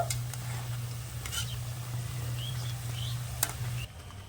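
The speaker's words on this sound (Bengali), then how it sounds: "এবার আমি উল্টে ওই পিঠটাও খুব সুন্দর করে ভেজে নেব কিছুক্ষণ ভাজতে ভাজতে" Gajal sweets made from flour and sugar frying in oil over low to medium heat, with a steady close hiss and bubbling throughout, a low background hum, and a few sharp clicks as the pieces are turned.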